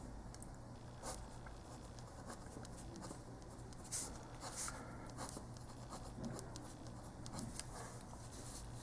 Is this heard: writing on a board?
yes